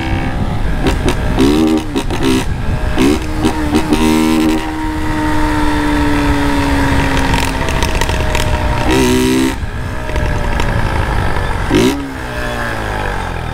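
A Honda CG Start 160 motorcycle with a loud open exhaust drones steadily and close, its pitch rising and dropping through revs and gear changes.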